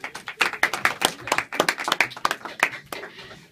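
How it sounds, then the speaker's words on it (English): A small audience claps for a first-time speaker, a few dozen sharp, distinct hand claps in an uneven, moderately loud burst that thins out toward the end. "When the speaker raises his hand, you need to clap"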